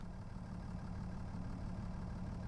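A Mercedes-Benz truck engine in Farming Simulator 25 idles with a low, even, continuous rumble, faint and steady, without any voices.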